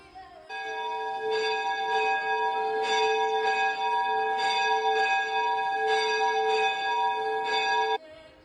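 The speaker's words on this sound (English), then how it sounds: "Church bells could be heard echoing daily for announcing the services are about to begin." Church bells ring out to announce that services are about to begin, several bright, sustained tones struck in repeated strokes, loud and close, their ringing overlapping and lingering until they stop abruptly.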